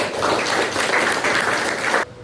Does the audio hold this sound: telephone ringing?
no